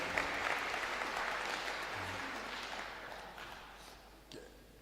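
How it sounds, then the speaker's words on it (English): Audience at a public hearing on a climate change bill in Sol Plaatje, Northern Cape, clapping for Honorable Dlamini; a soft, steady patter of applause that slowly fades. "You can clap for him."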